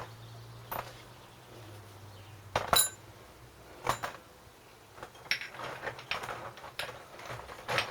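Small metal carburetor parts clink into an old kitchen sieve in scattered sharp taps and rattles, fairly close, over a quiet background hum.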